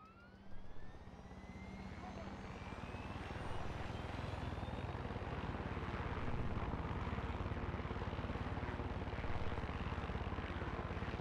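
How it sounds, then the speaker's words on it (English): A helicopter in the video game Far Cry 6 keeps up a steady, loud rotor and engine drone throughout, with a voice talking over it in places. "Oh no, my chopper!"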